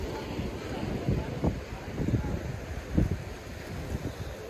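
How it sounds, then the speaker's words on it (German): Wind buffets the microphone beside a harbour wall in Cala Ratjada, Mallorca, on a day of high waves, a gusty low rumble with a few stronger thumps, and a person talking over it. "Wenn es hier auch noch windig ist"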